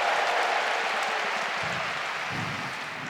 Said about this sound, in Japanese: 帰ってきた大歓声。